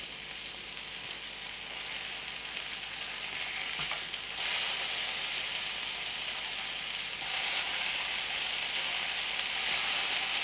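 Sausage patties fry in a pan for breakfast sandwiches, producing a steady hissing sizzle that swells louder midway and again near the end, close and even, with no one speaking.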